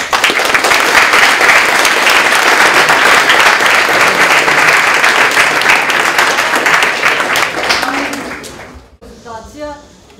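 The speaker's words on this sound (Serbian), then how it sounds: "Još jednom da ih pozdravimo aplauzom" Audience at a school event presenting student projects breaks into loud, sustained applause that fades out near the end, followed by a brief voice.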